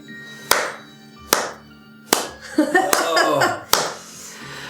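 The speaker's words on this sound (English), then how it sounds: "The slow clap, really?" A slow clap, single hand claps spaced about a second apart with a short burst of other noise between them, close and sharp in a quiet room.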